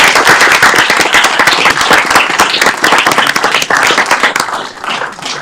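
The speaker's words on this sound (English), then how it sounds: "Let's give him a round of applause." Loud, dense applause from a crowd in a city council meeting room in Aurora, steady rapid clapping throughout that thins slightly near the end, with a few brief voices mixed in.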